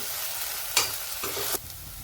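Onion and tomato stir-fried in oil: a close, continuous sizzle broken by two quick spatula scrapes, with no voices.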